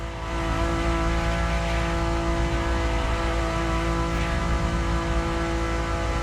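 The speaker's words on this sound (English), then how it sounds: "And the car's voice sounds even better from inside." A car engine heard from inside the cabin hums steadily with a strong, deep tonal drone and layered harmonics, loud and close, holding a constant pitch without speech.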